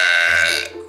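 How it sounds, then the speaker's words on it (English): A loud, long, resonant burp after drinking Dr. Pepper, close to the mic and heard alone. "There's your special 200 subscriber burp for my Beautiful Tangled community."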